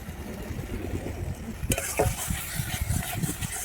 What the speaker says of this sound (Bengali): এবারে আদা বাটাটা দিয়ে ভালো করে কষিয়ে নাও